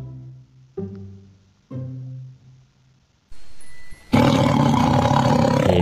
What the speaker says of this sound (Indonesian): Wow, ini si raja hutan teman-teman, alias singa